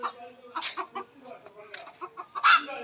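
A hen on a rooftop garden gives a string of short, close clucks and throaty calls in uneven bursts, with a louder squawk near the end and a voice speaking softly nearby.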